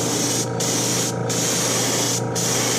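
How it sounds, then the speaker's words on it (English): Continuous hissing spray of an airbrush painting metal shad fishing lures, close and steady, with three brief pauses where the airflow cuts out before resuming. "Just spray them thin, let them dry"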